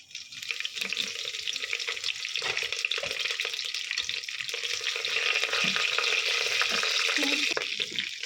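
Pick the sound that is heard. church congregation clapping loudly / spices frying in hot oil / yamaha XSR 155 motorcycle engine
spices frying in hot oil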